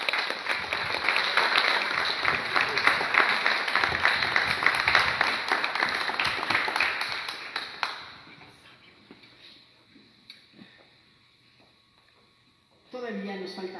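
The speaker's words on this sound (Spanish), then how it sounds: "Un aplauso, muchas gracias." Loud, dense audience applause at a cultural week inauguration lasts several seconds, then fades into quiet room tone before a sudden resonant sound at the end.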